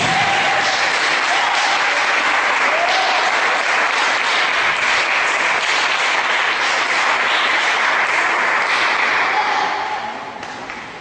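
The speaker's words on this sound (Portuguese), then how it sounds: "Dê uma salva de palmas ao Senhor Jesus." A church congregation applauding during a worship service, loud sustained clapping from many hands filling the room, faint voices scattered beneath, tapering off toward the end.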